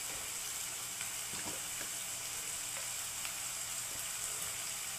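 Onions fry with salt in a pan for a mushroom curry, giving a steady, fairly quiet sizzle with a few soft stirring clicks and no voices.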